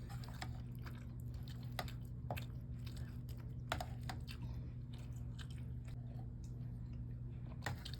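Someone eating chicken from a 1996 cold weather ration, with sparse close crunching bites and soft chewing over a steady low hum.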